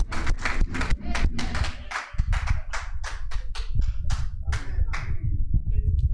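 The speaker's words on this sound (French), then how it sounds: "Acclamons une fois nos sœurs." A church congregation claps together in a quick, loud, fairly even rhythm, with a short break near the middle before the applause picks back up and fades toward the end.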